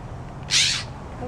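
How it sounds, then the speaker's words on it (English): A sharp, harsh bird call from fighting blue jays rings out once, loud and close, lasting about a third of a second over low background noise. "These two blue jays were fighting."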